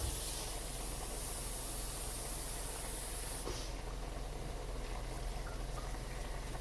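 A cup of water poured into a pot of cooking kale and spinach, Southern style, making a steady broadband rushing hiss for several seconds, with a slight shift in tone partway through.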